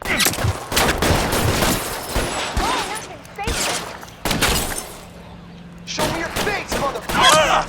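Gunfire in the crime game L.A. Noire: loud, sharp bursts of shots in rapid clusters with short pauses between volleys, close and punchy, mixed with shouting voices and scattered game effects.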